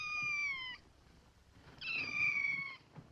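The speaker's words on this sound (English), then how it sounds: "Oh, a cat." A cat gives two drawn-out, clear meows with a short pause between them, close and fairly loud over a quiet room in a 1955 comedy film.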